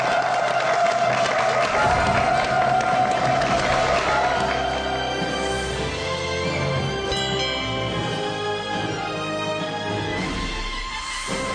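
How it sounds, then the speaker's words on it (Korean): Steady studio audience applause fills the room, loud and continuous, tapering slightly toward the end. "여러분, 박수로 환영해 주십시오."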